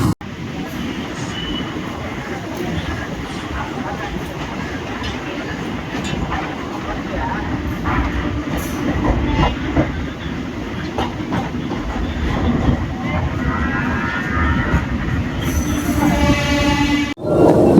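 A suburban passenger train runs from Chennai Central toward Pattabiram, its steady rumble and rhythmic wheel clatter continuous and close, with a voice talking over it.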